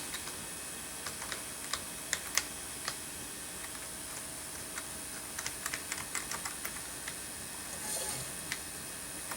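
Keys clatter on a computer keyboard, an irregular series of light clicks and taps scattered throughout, fairly close, over a steady background hum.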